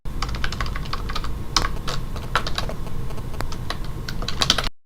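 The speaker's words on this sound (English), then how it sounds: "heard some intense keyboard motions" Rapid computer keyboard typing, a dense stream of close, crisp key clicks with irregular rhythm and no voices.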